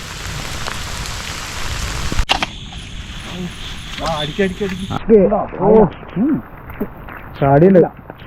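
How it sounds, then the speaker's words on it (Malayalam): Heavy rain falls at night during a speargun fishing outing, a loud steady hiss at first that then thins out while someone talks over it. "തീക്കനം മഴയാണ്"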